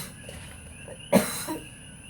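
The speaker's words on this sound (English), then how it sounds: "Sorry, my whooping cough." A person with whooping cough gives one sharp, close cough in a quiet indoor space, followed by a softer exhale.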